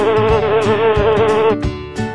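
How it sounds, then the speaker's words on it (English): A queen bee buzzes loudly and close, a wavering insect drone with a pulsing flutter that breaks off briefly and returns near the end. "Q is for queen bee."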